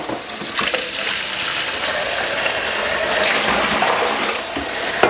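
Hot water gushing loudly and steadily from a tap into a bucket for spirit making, a close, continuous rushing splash with no talking.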